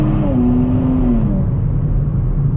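A Nissan Z sports car with a 9-speed automatic held in third gear produces a loud, rising engine drone with a climbing tone that then levels into a steady cabin hum.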